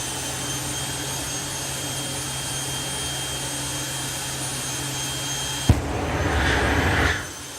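Jet engine of the Fire Force 3 jet car idling at a drag racing festival, a steady distant roar that breaks into a sharp pop and a louder, rushing surge before easing off.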